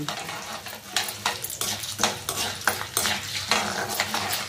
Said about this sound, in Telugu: స్టవ్ సిమ్లో పెట్టి వేయించుకోండి మనం వేయించేటప్పుడు.